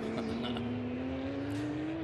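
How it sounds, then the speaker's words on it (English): A Porsche Cup race car at Sebring gives a loud, steady engine drone whose pitch climbs gradually as it passes, with no voices. "The Porsche cup car."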